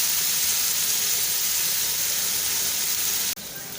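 Onion sautéing in a pan for a Malvani potato dish, a constant close hiss and sizzle with a brief break near the end.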